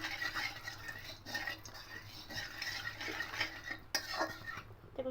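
Sugar stirred into oil in a pan to caramelize for a home-style chicken and potato curry, giving steady scraping and clinking of a spoon against the pan with soft wet sizzle, close and continuous without speech.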